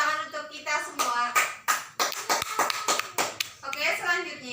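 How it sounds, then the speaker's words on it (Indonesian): A classroom of students claps together after group work, with sharp, uneven hand claps spread across the clip and voices and chatter mixed in among them. "Tepuk tangan untuk kita semua."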